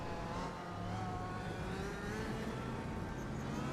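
A race car crossing the finish line at VIR in a racing sim, its steady engine note droning and shifting in pitch as it passes, with a broad hum of other cars around it.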